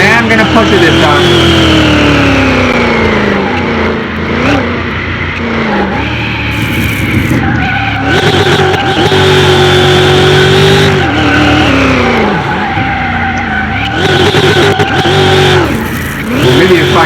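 A roughly 7500-horsepower race car in Car Mechanic Simulator 2021 is driven hard around a racetrack. Its engine roars loud and continuous, pitch climbing and falling through gear changes, with bursts of tire squeal and skidding.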